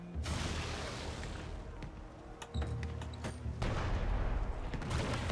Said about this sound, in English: Watch for cannon fire.